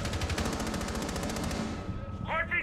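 Automatic gunfire in a Rainbow Six Siege gunfight, a fast, evenly spaced stream of shots rattling for about a second and a half before cutting off, followed by a short electronic chirp.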